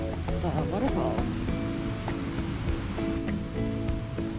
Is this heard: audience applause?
no